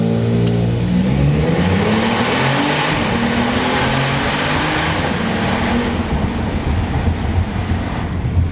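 A 2022 Genesis G70 luxury sport sedan in Sport Plus mode revs its engine loudly and continuously, a rising and falling growl with wind rush and no talking.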